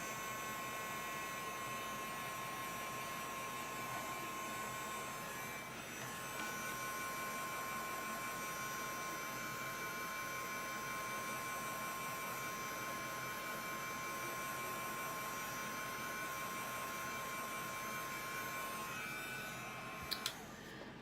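A handheld dryer blows steadily on flowers, a continuous whirring motor hum with airy rush that holds nearly unchanged for about twenty seconds before a brief click near the end, fairly quiet and without speech.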